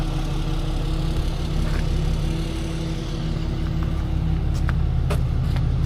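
A 1965 Chevy C10 pro street truck with a big block 454 idles steadily and close by, a deep, even low rumble that holds level throughout with no talking over it.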